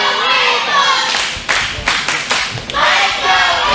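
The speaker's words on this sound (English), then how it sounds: "Crowd cheering Apoc on" A wrestling crowd at a Christian Wrestling Federation event claps and cheers, loud and close, with bursts of clapping and a few thuds breaking through a steady roar of voices.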